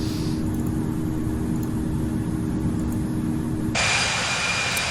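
Airbus A320 jet engines in the Infinite Flight game, a steady loud airborne roar with a low rumble, joined by a sharper hiss near the end.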